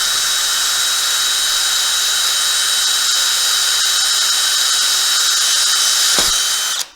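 A power drill with a 1/2-inch bit drills a hole through a well-related part. The high, steady whine runs continuously and loudly for nearly seven seconds before stopping abruptly.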